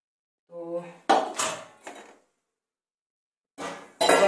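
Pots, pans and utensils being washed by hand in a home kitchen, with a few separate clatters and knocks of metal and crockery set down, close and fairly loud, between pauses of quiet.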